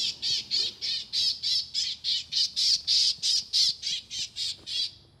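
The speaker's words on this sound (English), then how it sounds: "Don't mind the birds, folks." Birds squawk outdoors in a rapid, regular series of about sixteen harsh, crow-like calls, fairly loud and close, with no talk over them.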